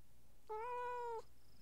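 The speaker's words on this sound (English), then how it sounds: "That was my cat." A pet cat gives a single clear meow, drawn out for under a second and fairly close, in an otherwise quiet indoor room.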